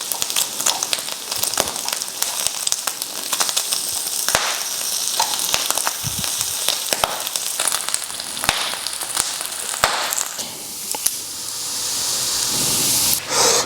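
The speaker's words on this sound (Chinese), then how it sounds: "这烤盘噼啪作响啊" Pork belly slices sizzle and crackle on a hot iron griddle, a dense steady hiss of frying fat with frequent sharp pops throughout, close and loud with no talk.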